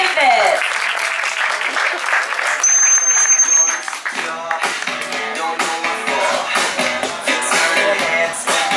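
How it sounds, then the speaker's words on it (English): Spectators at a dolphin show applaud with scattered claps, mixed with music, a brief whistle-like tone and a voice speaking over a loudspeaker. "how about a round of applause for your real stars"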